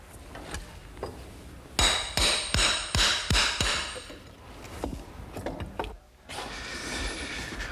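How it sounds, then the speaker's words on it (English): Oak pallets being taken apart: a run of sharp hammer strikes, about six in quick succession, then scattered knocks, creaks and rattles of wood and nails being pried loose, close and loud. "I've got to finish taking apart all these pallets"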